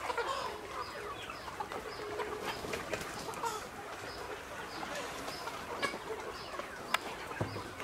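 Many chickens clucking steadily at a Vietnamese poultry farm, a continuous busy flock chatter with a few sharper calls standing out near the end.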